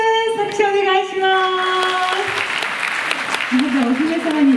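An audience at a community centre event applauds for a costumed princess procession participant, a broad wash of clapping beneath a sustained sung or spoken tone, with a voice rising near the end.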